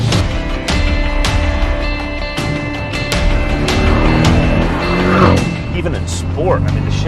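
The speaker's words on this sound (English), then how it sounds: "I love the burble on the overrun" Porsche 718 GTS engine from inside the car, loud and steady under talk with shifting revs, with an exhaust burble on the overrun.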